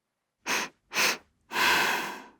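Sniffing fountain pen ink up close, two short sharp sniffs followed by one longer inhale, loud and near.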